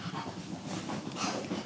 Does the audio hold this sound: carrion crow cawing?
no